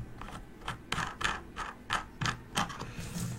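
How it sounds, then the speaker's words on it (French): The threaded base of a Geek Vape Blitzen vape tank being unscrewed by hand. Close, quiet ratcheting clicks and scrapes come in a series of short bursts, with no talk. "pour le revisser, je vous conseille de dévisser la base"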